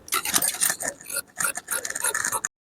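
Scissors trim excess fabric from a blouse being stitched, close crisp snipping and scraping in short bursts with brief gaps, ending abruptly.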